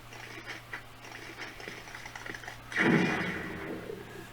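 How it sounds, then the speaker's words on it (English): A Ghostbusters proton pack prop fires a short blast in its blue stasis mode, a single sharp burst rising out of a faint electronic hum with quiet clicks before it. "You get like a little shotgun of the stasis mode, one-off shots, one-off bursts."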